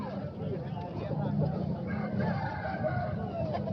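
Aseel rooster at a poultry market in Tando Adam, crowing and clucking faintly amid steady background chatter and market bustle, with people talking nearby.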